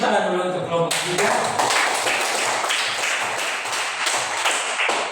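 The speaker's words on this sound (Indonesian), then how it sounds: "mari kita beri tepuk tangan dulu untuk kelompok 3" A school class claps together for group 3, a dense burst of hand claps that starts abruptly and carries on steadily, with a few louder taps standing out.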